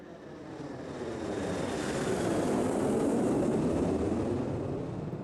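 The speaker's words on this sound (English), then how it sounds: "It's called airplane landing." An airplane landing sound effect: a jet roars past in a broad rushing swell, rising to a loud peak and then easing off slightly, with no voices.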